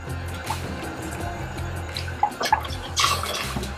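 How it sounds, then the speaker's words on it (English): Water trickles and splashes into a pot holding rice, canola oil and turmeric on a home stove, a soft uneven pour with small drips and clinks of the pot, fairly close, no talking. "And the water."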